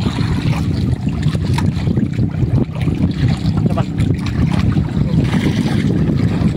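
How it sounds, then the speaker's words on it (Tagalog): A boat engine chugs steadily at low revs over wind and water noise, continuous and moderately loud, on a crab-fishing trip. "Pinapaandar yung makina, medyo mahina lang"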